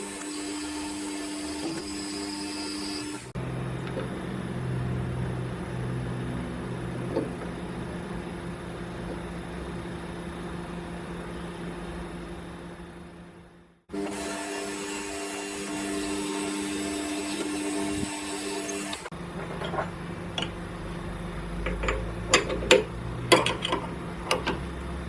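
A metal lathe turns steadily while a sharp 0.2 radius Mitsubishi tip takes cuts on a model steam engine part, giving long, even machining passes that stop briefly and then resume, with clicks and knocks toward the end.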